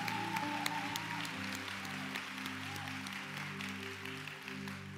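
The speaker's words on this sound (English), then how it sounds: "Somebody give God a great big hand clap." A church congregation claps hands in a steady, dense wash that carries on for several seconds at moderate distance, with sustained organ or keyboard tones underneath and no talking.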